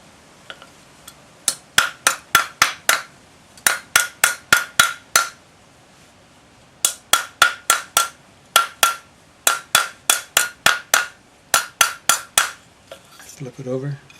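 A rawhide hammer strikes a metal bangle on a bracelet mandrel in quick bursts of about six sharp taps each, separated by short pauses, with a bright ringing metallic edge and a brief voice near the end.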